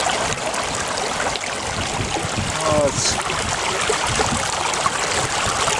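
Water rushes steadily through a homemade sluice lined with gold hog matting, giving a continuous, close splashing flow with a brief spoken voice partway through.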